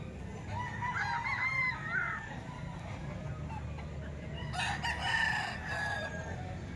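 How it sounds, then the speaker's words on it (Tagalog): Roosters crow repeatedly over a steady murmur of clucking chickens, with a second crow rising later amid constant farmyard noise. "Ang daming manok ngayon dito mga bossing sa Kalumpit."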